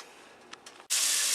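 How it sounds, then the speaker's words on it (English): Onion frying in a separate frying pan sets off a sudden, loud, steady sizzling hiss after a quieter moment with a few faint rustles. "I'm going to fry a little bit of onion in a separate frying pan"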